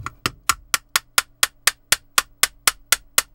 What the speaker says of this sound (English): Or slightly tap it with a hammer.